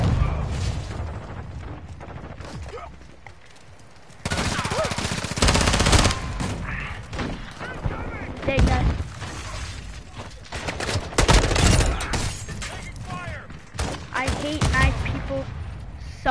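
Call of Duty gunfire: repeated bursts of automatic fire and sharp shots, loud and close in places, with quieter gaps and a voice talking over parts of it.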